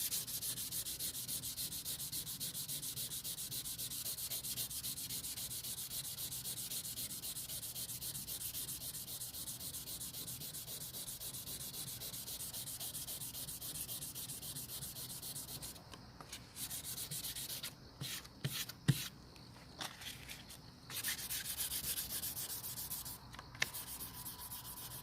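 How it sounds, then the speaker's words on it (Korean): Wet sandpaper rubbed over a car bumper during DIY partial repainting of a Hyundai Equus, a continuous soft, steady scraping hiss, close up, with a few brief knocks and pauses near the end. "바로 이제 그 사포를 물에 적셔서 부드러운 면으로 만들어 주시면 될 것 같습니다"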